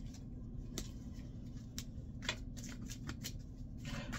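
A deck of cards being handled and shuffled during a card reading, with repeated riffling bursts and crisp flicks, close and moderately loud over a steady background noise, with no talk.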